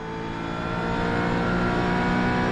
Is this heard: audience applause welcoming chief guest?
no